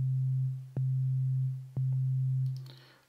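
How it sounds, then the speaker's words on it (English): A pure, steady FM operator synth tone from BeepStreet Drambo sounds three times, each note re-triggering with a click and slowly decaying, with a faint glitchy chirp at the end. "let's add under generator an FM operator so that we can produce some sound"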